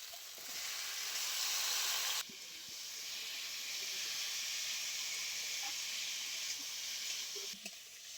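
Boiled bottle gourd stems and potatoes frying in spice paste with a little water, a steady close hiss and sizzle that briefly dips and resumes, with faint stirring clinks near the end.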